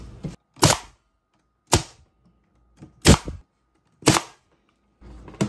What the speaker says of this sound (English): we're going to staple them, just one staple on the bottom.